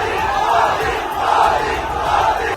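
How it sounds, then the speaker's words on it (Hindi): Large crowd at a metro station chanting slogans "Modi Modi" and "Jai Shri Ram" in loud, rhythmic unison, a dense roar of many voices swelling and repeating throughout. "लोगों ने मोदी मोदी और जय श्री राम के नारे लगाकर उनका जोरदार स्वागत किया"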